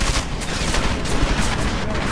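Dense, continuous gunfire from the video game Deus Ex: Mankind Divided, a loud unbroken barrage of rapid shots filling the whole stretch with no pauses.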